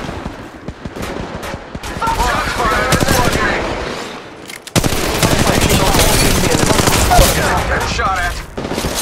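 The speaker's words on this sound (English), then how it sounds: "Opening fire." Rapid automatic gunfire from Apex Legends Mobile, dense continuous bursts of shots running nearly throughout, loud and close, with a brief lull in the middle before the firing resumes.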